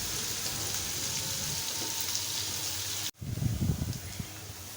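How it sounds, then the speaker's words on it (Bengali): Chopped onions fry in a pan, frying toward golden brown, giving a steady close sizzle and crackle, briefly broken by a sharp cut and then resuming with louder bubbling spatter. "পেঁয়াজটা একটু ভালোভাবে গোল্ডেন ব্রাউন করে ভেজে নিব আমি"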